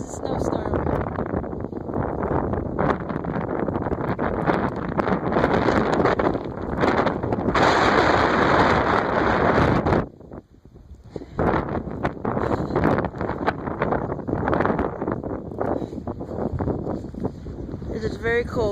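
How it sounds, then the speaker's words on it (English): A cold, strong wind buffets and roars through a wet snowstorm in loud, rough gusts, with a brief sharp lull about midway before the blustery rush returns. "It is very cold and very windy, and the snow is very wet."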